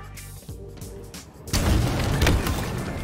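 A rocket explosion in the shooter Halo Infinite lands as a sudden heavy boom about halfway through, then a loud rumbling, crackling wash of blast noise trails off, after quieter game sounds.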